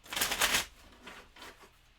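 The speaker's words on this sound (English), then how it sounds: "Let's give it one more regular shuffle." Playing cards are shuffled up close for a solo board game: one quick riffle burst, then a shorter, softer second pass, quiet and alone.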